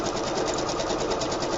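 Sewing machine stitching coffee filter and fabric into pocket tucks, a loud, steady rapid whir with fast even needle chatter, running alone without pause.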